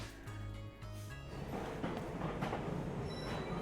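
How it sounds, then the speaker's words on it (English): A train pulls into a station in a Pokémon video game, a rising rumble of wheels and rolling carriages that swells and holds steady, heard after a brief stretch of game music. "The train to the Isle of Armor has arrived."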